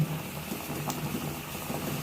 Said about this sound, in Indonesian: air sudah mendidih